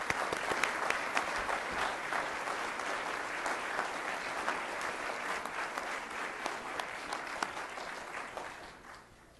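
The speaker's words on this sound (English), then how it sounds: "please join me in giving all of our candidates a round of applause." An audience at a 2013 League of Women Voters mayoral candidate forum in Richardson gives the candidates a round of applause, a dense, steady clapping that fades out toward the end.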